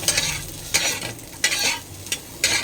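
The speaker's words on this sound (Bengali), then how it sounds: "এই দেখো আমি এটা পেঁয়াজটাকে জাস্ট ভাজতে দিয়েছি এটা ভাজা হবে" Onions fry in oil in a pan with a soft, continuous sizzle. About five sharper scraping stir strokes recur at roughly half-second intervals, close by and with no voices.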